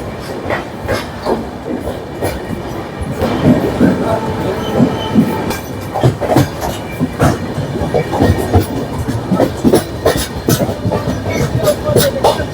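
The 12343 Darjeeling Mail passenger train rolls along with rhythmic clickety-clack from the wheels and rumbling carriages, loud and close, with faint voices in the background.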